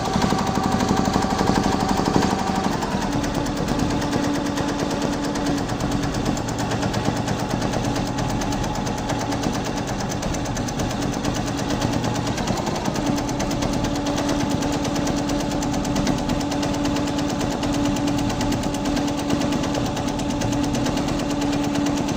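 An embroidery machine stitches a mirror-work design in a fast, rattling mechanical clatter. The rhythm shifts briefly near the start, then runs steadily and loudly throughout, with no voices.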